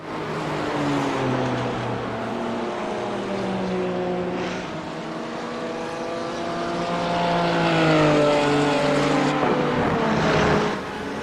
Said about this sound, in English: That's just an amazing sounding engine.